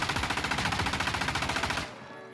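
Rapid automatic fire from a rifle fitted with a foregrip during a video game recoil test, a steady stream of shots for almost two seconds before cutting off abruptly.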